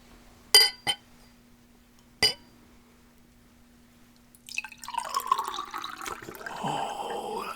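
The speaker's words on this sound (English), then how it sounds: "I'm just gonna pour" A drink poured into a glass: a few clinks and drips first, then after a pause a close, bubbling pour runs steadily to the end.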